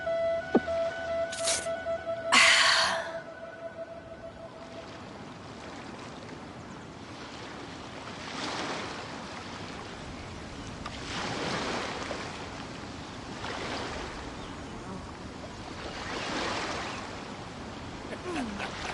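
Gentle ocean waves wash in and out in slow, soft swells in the Genshin Impact game world, faint and rhythmic after a couple of brief chiming interface tones at the start.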